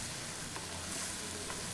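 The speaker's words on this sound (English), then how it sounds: "Once everything starts frying up" Vegetables and anchovies frying in a pan make a steady, close sizzle with faint crackles throughout, and no talk.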